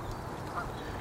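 A young male bird, not yet fully fledged and showing an orange patch, gives a short, close call, heard only briefly against steady background noise.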